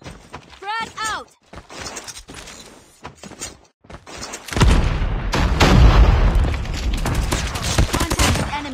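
A frag grenade goes off in a Call of Duty Search and Destroy match, a heavy booming blast that rolls into sustained loud gunfire and battle noise, with game voice callouts and a short synthetic chirp heard earlier.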